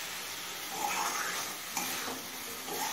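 Mustard greens cook on a high flame, giving a quiet, steady sizzle with soft stirring scrapes as the remaining water cooks off.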